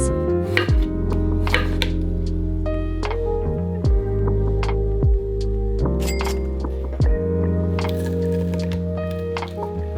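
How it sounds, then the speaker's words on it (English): A knife slices zucchini into half moons on a board, a handful of separate crisp cuts spaced a few seconds apart under steady background music. "Slice it in half lengthwise, and then cut it into half moons just like this."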